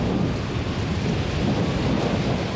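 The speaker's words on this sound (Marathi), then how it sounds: "दाट ढग तयार झाले आणि मुसळधार पाऊस होऊ लागला." Heavy rain pours in a steady, dense hiss with a deep low rumble of thunder rolling underneath throughout, loud and continuous with no voices.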